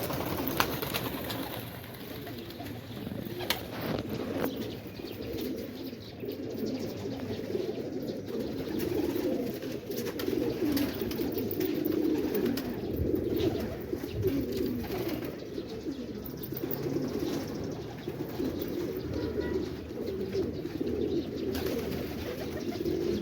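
Quetta breeding pigeons coo continuously in a low, rumbling chorus, close and steady, with soft rustling and occasional sharper knocks in the background.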